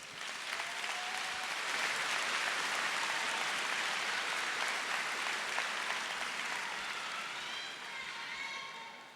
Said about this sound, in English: One more round of applause for Mr. Felix.